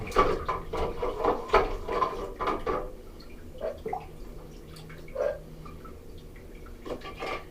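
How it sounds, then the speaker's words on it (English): Stainless steel PetSafe pet fountain parts being rinsed under running water, with splashing and dripping bursts loudest early on, then quieter trickles and drips with pauses. "You want to rinse those back out so they're not contaminated."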